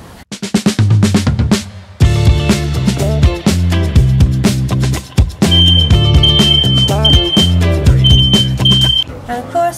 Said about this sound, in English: Got some burnt toast and the alarm is going off.